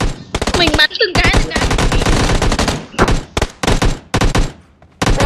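Loud, rapid automatic gunfire in the battle royale game PUBG, several close bursts of machine-gun fire separated by short pauses, with a brief voice.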